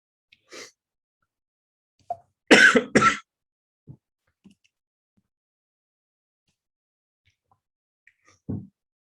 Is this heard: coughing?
yes